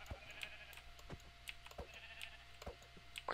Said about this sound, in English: I spawned with a ton of sheep near me.